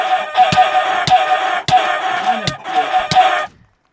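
Someone voicing chicken sounds during a chicken-coop game: a steady, dense clucking chatter runs for about three and a half seconds, broken by several sharp clicks, then cuts off to silence. A human voice imitates the bird.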